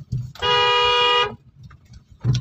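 A single sustained car horn honk, loud and close, lasting about a second, with engine and road rumble around it.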